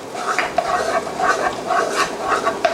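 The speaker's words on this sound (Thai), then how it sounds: "พอน้ำมันเริ่มร้อนแล้วนะครับ ให้เราใส่ รากผักชีกระเทียมพริกไทยที่เราโขกไว้นะครับ" A pounded paste of coriander root, garlic and pepper fries in hot oil, crackling and sizzling close by while a utensil stirs and scrapes the pan in repeated strokes.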